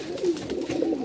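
A pigeon at a pigeon sale in Bhopal gives a soft, low, continuous coo that rolls on for about a second, close and alone.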